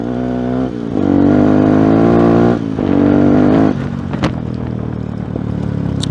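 A Yamaha WR125X motorcycle engine revs hard for a few seconds on a slick, foggy road, its harmonic drone rising and falling in pitch, then drops back to a steady lower running hum.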